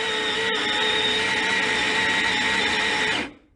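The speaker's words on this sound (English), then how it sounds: "Really like this grinder, nice fluffy grinds there." A Sette 270 coffee grinder runs on a short dose of beans, giving a loud, steady high-pitched motor whine with a grinding rasp that holds evenly for about three seconds before winding down and stopping.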